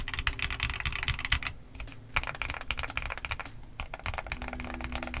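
Rapid clicky keystrokes on an XVX S K80 mechanical keyboard, close and continuous with a couple of brief pauses, each press sharp and slightly muted.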